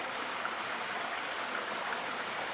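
A small waterfall at Nydri with only a little water trickles and splashes in a steady, even wash of sound from start to finish. No voices are heard.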